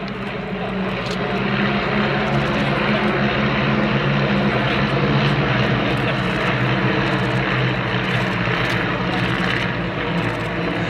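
Propeller aircraft of an aerobatic display team flying overhead in box formation at an air and car show, a steady loud engine drone with rising and falling propeller tone throughout.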